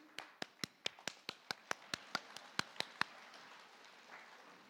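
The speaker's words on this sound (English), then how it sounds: "I would like us to give the Vice-Chancellor a round of applause, and the round goes like this." At a university graduation ceremony in Keetmanshoop, an audience claps in unison: about fourteen evenly spaced, crisp claps in a steady patterned round, then they stop abruptly, leaving a faint room murmur.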